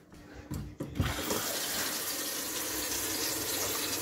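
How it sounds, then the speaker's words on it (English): Water running steadily from a cracked, leaking Moen pullout faucet hose into a pail under a sink, a continuous close splashing hiss after a few brief clunks at the start. "See it dripping into the pail?"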